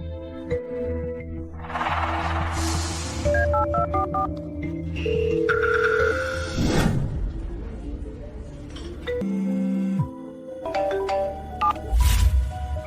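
A telephone rings in short tonal bursts amid electronic beeps and dialing tones, fairly quiet and heard alone without any voices.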